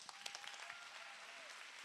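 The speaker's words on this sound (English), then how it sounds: "let's go ahead and give a warm welcome and a round of applause for Pastor Bill Purvis" An audience claps to welcome Pastor Bill Purvis: a dense, steady patter of many hands that sounds fairly faint and distant and lasts a couple of seconds.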